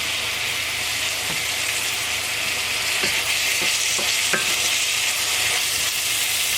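Onions and minced garlic sizzling steadily in a frying pan, a constant close hiss of frying with a few soft clicks of a utensil stirring.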